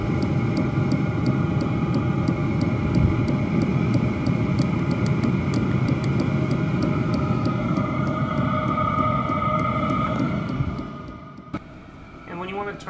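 A homemade diesel heater built in a box runs with a loud, steady whirring roar and a regular ticking from its fuel pump. The sound then winds down and drops away near the end.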